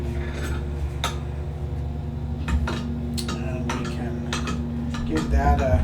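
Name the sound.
stirring melted butter, salt and yeast mixture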